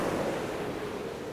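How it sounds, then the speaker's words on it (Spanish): Steady, broadband roar of the sea near a lighthouse tower, a constant wash of surf noise with no breaks, moderately loud and unchanging for the whole moment. "salvo por el rugido constante del mar"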